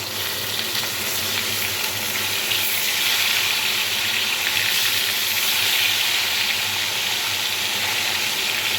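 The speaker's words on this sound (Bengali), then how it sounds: "এবার মাছটা উল্টে দেব।" Tilapia fillets sizzle and crackle steadily in hot oil in a pan, a loud, continuous frying hiss with no talking.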